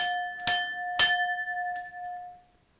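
A boxing referee's bell rings twice in quick succession, bright metallic dings with a sustained tone that lingers and slowly fades, loud and clear with no voices.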